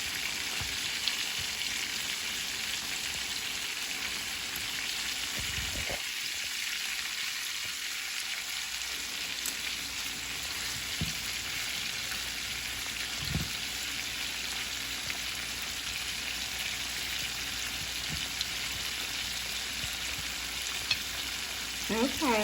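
Beef pieces browning for stew in a frying pan, a steady dense sizzle throughout, with occasional soft thumps and scrapes as pieces are turned over.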